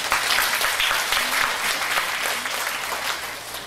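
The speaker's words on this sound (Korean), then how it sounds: "한 번 더 박수 한번 해주십시오" An audience in a lecture hall applauds a guest lecturer at a teachers' training session, giving dense, steady clapping that stays fairly loud and even throughout.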